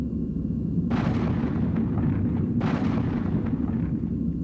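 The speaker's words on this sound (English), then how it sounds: "105mm howitzer." A 105mm howitzer fires, heavy booming blasts from the large-calibre gun with two sharp reports over a dense rumbling background, loud and without speech.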